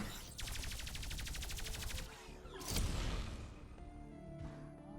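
Rapid automatic gunfire from the shooter game VALORANT bursts in a fast regular volley, followed by a sharp blast and a few fainter electronic effects, all loud and close with no talk.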